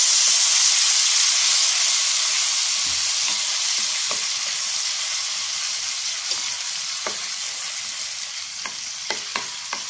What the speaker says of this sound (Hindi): तो हम सिर्फ इसमें थोड़ा सा पपाया ऐड करेंगे और इसे मिक्स कर देंगे।